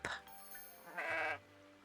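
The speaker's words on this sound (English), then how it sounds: "I'm gonna say hi to these sheep." Sheep bleating in the Tales of the Shire video game, two short close bleats in quick succession over a faint steady game background.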